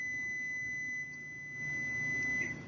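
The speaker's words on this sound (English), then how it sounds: "Sorry about that, my buzzer's going off." A buzzer sounds as a steady, piercing electronic tone that holds for the whole stretch, fairly close and loud over a quiet room, with no talk.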